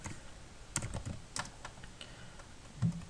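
Computer keyboard keys clack faintly and sparsely as equations are typed into GAMS, a handful of separate light taps spread across a few seconds with quiet room noise between.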